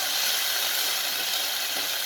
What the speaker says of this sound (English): Let us saute it.